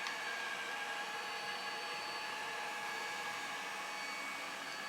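An iLife ShineBOT W450 robot mop runs steadily, giving a constant soft whirring hum with faint high-pitched motor whine, even and unbroken throughout with no voices.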